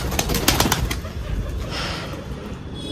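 Pigeons make a soft, low cooing murmur with some fluttering wing flaps near the start, amid steady background noise.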